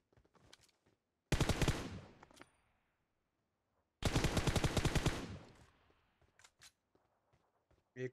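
Gunfire in a battle royale video game, two loud bursts of rapid automatic fire a few seconds apart, each trailing off, with quieter scattered shots and clicks in between.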